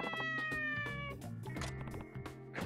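Hungry cat in Like a Dragon: Ishin! meows repeatedly in a drawn-out, pleading way, close and loud, with no talking.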